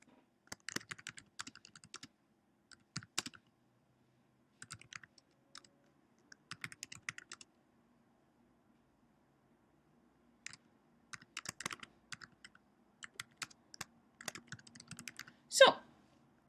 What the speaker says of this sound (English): what I'm going to do here is I'm going to type